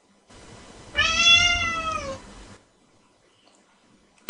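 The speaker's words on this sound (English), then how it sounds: "Cat." A domestic cat gives a single clear, drawn-out meow of about a second, heard close and alone over a quiet background.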